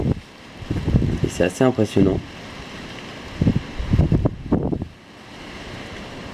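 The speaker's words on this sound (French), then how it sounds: "vous entendez bien le vent qui souffle très très fort. La pluie qui tombe." Storm Ciara brings strong wind gusts of 90 to 100 km/h and falling rain in Amboise, France, a constant roaring rush under someone speaking French close to the microphone.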